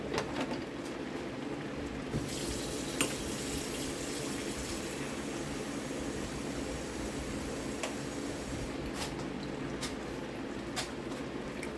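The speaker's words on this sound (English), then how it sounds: "I'm going to add some more water because I want it to really boil" Water running from a tap into a pot of collard greens in a kitchen, a steady quiet splashing stream with a few clicks and knocks, close but not loud.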